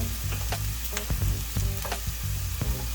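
Onion frying in a pan with oil for Hyderabadi paneer masala, a steady close sizzle with occasional scraping stirs, no voices.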